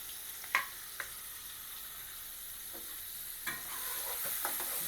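Two onions frying in oil for a home chicken dish, a soft steady sizzle with a few scattered stirring clicks and scrapes, quiet and close.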